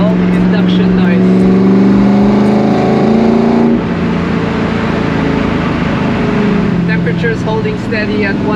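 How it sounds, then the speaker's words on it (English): Ford GT40 driving on a highway, a loud, continuous engine and intake roar heard from inside the car, with a steady drone and a brief dip in level midway. "hear all the induction noise."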